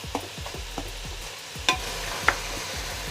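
Tomatoes are mashed into sizzling oil in a pan for chicken biryani, a spatula scraping in a steady repeating rhythm over a constant close frying hiss, with two sharper knocks against the pan.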